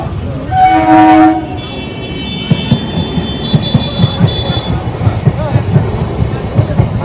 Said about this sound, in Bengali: পুরো ফাঁকা ট্রেন, দেখ শান্তু, পুরো ফাঁকা ট্রেন।